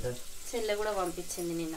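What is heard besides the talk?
tempering (talimpu) sizzling in frying pan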